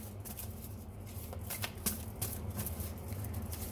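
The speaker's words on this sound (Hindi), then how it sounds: "साइकिक टैरो से भी एक बार कुछ कार्ड्स निकाल लेते हैं।" Cards from a psychic tarot deck are handled and drawn, giving a soft continuous papery rustle with a few sharper flicks and snaps, close and quiet over a low background hum.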